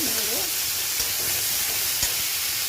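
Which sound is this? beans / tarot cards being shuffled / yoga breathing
beans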